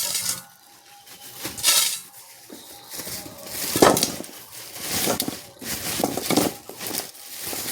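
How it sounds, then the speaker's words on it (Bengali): Fresh ripe jujube berries are poured into a bowl, giving scattered clattering bursts of small hard fruit knocking against each other and the container, close and fairly quiet. "জায়গায় নিয়েছি, কুলগুলো ঢেলে নেবো।"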